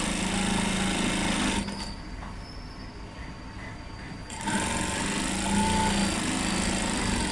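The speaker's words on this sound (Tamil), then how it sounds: "நான் மிஷின்லேயே தான் தைக்கிறேன்" A sewing machine runs steadily while stitching a blouse, its motor buzzing loudly, dropping to a lower, quieter hum for a couple of seconds in the middle before returning to full speed, with no talking.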